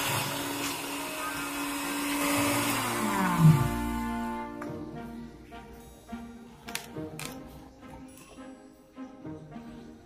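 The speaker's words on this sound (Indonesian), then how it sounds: "Blender ubi ungu yang telah direbus dengan 400 ml air." Blender puréeing boiled purple sweet potato with water, a loud motor whir that rises then cuts off after about four seconds, followed by softer clicks and knocks.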